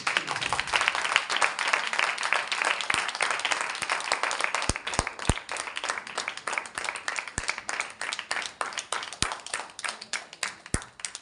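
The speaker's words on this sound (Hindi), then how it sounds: "हम यहोवा के लिए ताली बजाएंगे।" Congregation clapping hands in rhythm during a Hindi-language worship service, steady dense claps throughout with sharper individual claps standing out near the end.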